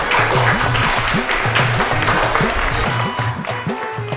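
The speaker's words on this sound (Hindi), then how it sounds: "एक बार वनिता जी के लिए ढेर सारी तालियां।" An audience applauds at a college ceremony where a student is being honoured. Steady, dense clapping fills the whole stretch, with a rhythmic, repeating musical pattern running low beneath it.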